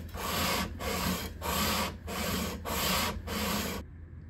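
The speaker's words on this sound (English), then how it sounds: "we have smoothed that board down" A 1953 Gibson L-50 guitar fingerboard being sanded smooth in steady rhythmic strokes, six even passes close up, then a sudden stop into near silence.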